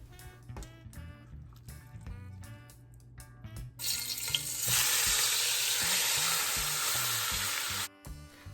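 A piece of beef drops into a hot oiled pot for pot roast and bursts into loud, steady sizzling frying, after a few seconds of clinking kitchen sounds, close up.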